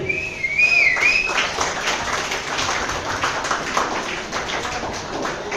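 Audience whistling at a Tamil debate event at a book fair, a sharp rising-and-falling whistle at the start followed by scattered clapping and crowd noise, fairly loud and close.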